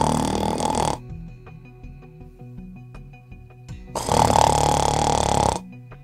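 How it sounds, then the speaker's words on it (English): A rattling snore-like sound produced during a self-performed flexible nasendoscopy, two loud harsh bursts separated by a quieter stretch of tonal noises. "That's what happens when you snore."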